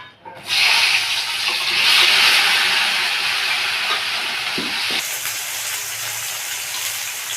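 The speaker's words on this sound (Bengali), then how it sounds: "মা বেগুনগুলো কেটে রেখেছে লম্বা লম্বা করে এবার বেগুনগুলোকে ভেজে নেব" Long slices of eggplant drop into hot oil and sizzle in a home kitchen, a loud steady hiss that swells after the first second and holds, then shifts slightly in tone near the end.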